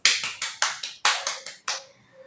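A classroom of students claps for three pairs of classmates during a science lesson: about eight sharp, close hand claps in a quick, fairly even rhythm, each ringing briefly, with no talking.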